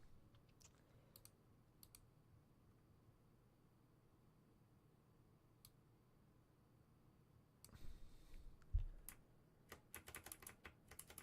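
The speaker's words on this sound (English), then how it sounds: "Sorry if you hear a bunch of clicking for a second. Just moving that." Computer mouse and keyboard clicks while items are dragged around the screen, sparse faint taps at first, then a denser burst of louder clicking near the end over low background hum.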